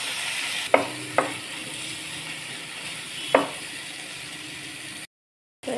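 Spice masala with shrimp is stirred in a large wok, a steady sizzling hiss broken by three sharp scraping clacks of the spoon against the pan, no voices, before a brief dropout.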